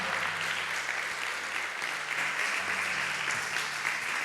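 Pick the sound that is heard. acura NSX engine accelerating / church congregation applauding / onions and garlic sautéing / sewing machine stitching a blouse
church congregation applauding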